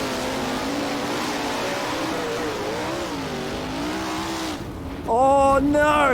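Sprint car engines in the rFactor racing game at Premier Speedway, a sustained close engine whine whose pitch wavers up and down through corners, then jumps louder and higher near the end as the throttle opens.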